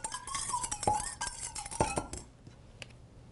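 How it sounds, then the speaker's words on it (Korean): Wire whisk stirring a sugar mixture in a bowl, quick metallic scraping and clinking against the sides, then trailing off into quiet; close and soft, with no talk. "제가 휘퍼가 있으니까 휘퍼로 잘 저어 줄게요"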